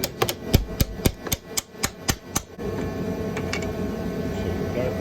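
A tool repeatedly tapping a stuck motor mount piece loose on a 2005-2008 Pontiac Grand Prix GXP during radiator removal, about ten sharp metallic knocks in quick succession, close and loud, followed by quieter shop noise.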